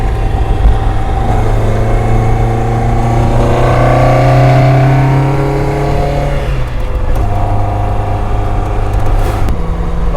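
A loud Toyota 4A-GE engine on a break-in tune in a KP60 Starlet revs repeatedly, pitch climbing and falling in long sweeps, then settles back to a rumbling idle before another short rev.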